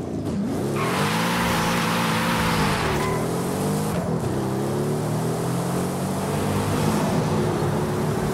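Mercedes-AMG SL65 Black Series engine in Forza Horizon 5, a loud, continuous drone that climbs and dips with revving through gear changes, heard up close with tire noise and no talking.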